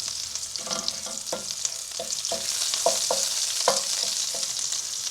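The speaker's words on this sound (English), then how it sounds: "I'm just going to fry that off in the oil to let the flavors bloom a little bit." Spices for a Thai red curry with fresh fish fry in hot oil, making a steady bright sizzle close by. Repeated soft scraping knocks from stirring punctuate it, with no talking.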